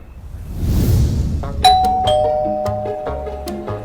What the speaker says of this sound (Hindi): मॉडल टाउन के एक घर के बाहर खड़ा डोरबेल बजा रहा था